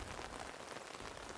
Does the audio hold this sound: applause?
no